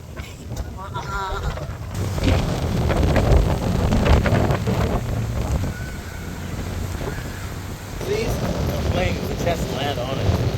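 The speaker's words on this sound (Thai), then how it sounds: "แต่ตอนไปถึงคือ ลมแรงมาก ๆ เลย" Strong wind roars and buffets the microphone on a waterfront near a hotel, a loud continuous rushing that surges and eases while people talk over it.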